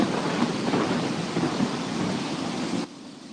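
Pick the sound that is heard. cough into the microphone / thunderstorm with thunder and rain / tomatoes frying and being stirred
thunderstorm with thunder and rain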